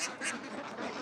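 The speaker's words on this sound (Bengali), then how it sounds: "দেখতে পাচ্ছেন আমার পিছনে অসংখ্য হাঁস, তাদেরকে খাবার দেওয়া হচ্ছে এবং তারা খাবার খাচ্ছে।" Khaki Campbell ducks on a hatchery farm quacking and calling together at feeding time, a dense, continuous flock chatter with a few louder calls standing out.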